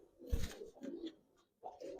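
A pair of Giribaz pigeons coo close by, giving low throaty coos in two bursts separated by a short pause, with a soft thump near the start.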